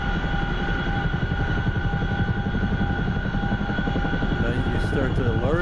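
A helicopter flies in the DCS flight simulator, with a steady loud rotor and engine drone throughout and a voice talking over it.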